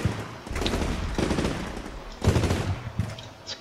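Gunfire in the Combat Mission Shock Force 2 war game as Syrian forces fire across open ground at Marines at dusk, with repeated bursts of automatic fire and rattling volleys at moderate distance.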